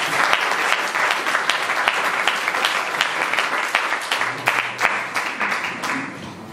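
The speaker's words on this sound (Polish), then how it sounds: "Dla was brawa." Concert audience applauding a singer's performance in a hall at Kleszczewo, steady dense clapping with sharp individual claps standing out, sustained throughout at close range.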